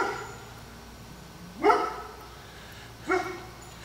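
A neighbor's dog at a fence gives two short, separate barks with a whimpering edge, spaced about a second and a half apart over a quiet background.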